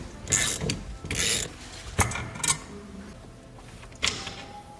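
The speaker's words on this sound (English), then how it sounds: "we have to take the telescoping column apart" Car steering column being taken apart during a key lock cylinder replacement, with separate mechanical clunks, ratcheting clicks and metal parts rubbing, spaced unevenly across the stretch, close and moderately loud, with no talk.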